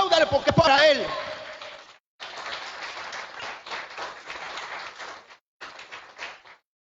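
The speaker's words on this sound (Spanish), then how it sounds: "si le va a aplaudir, apláudale porque es para él." A church congregation breaks into applause during a sermon after a brief sung or spoken note, a dense rush of clapping that pauses briefly and resumes, fading near the end.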